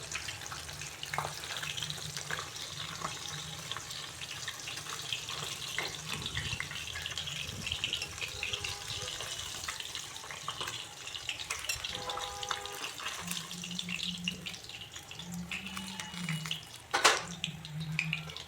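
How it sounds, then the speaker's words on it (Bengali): Katla fish pieces frying in oil in a pan produce a faint, continuous sizzle and spatter for nearly twenty seconds, with brief clatters and a sharp clink as the pieces are turned. "আমি এপিট ওপিট উল্টে ভালো করে ভেজে নিচ্ছি"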